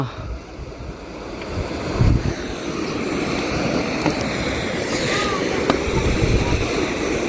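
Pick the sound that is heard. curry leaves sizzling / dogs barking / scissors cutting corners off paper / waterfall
waterfall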